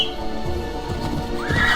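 A horse in Assassin's Creed Odyssey gives a close, clear neigh over a brisk clip-clop of hooves, all within a couple of seconds with no talk.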